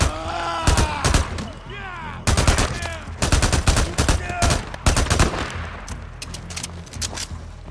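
Gunfire in Days Gone during a zombie horde fight crackles in bursts of rapid shots and single cracks, loud and close, with other game sounds between volleys.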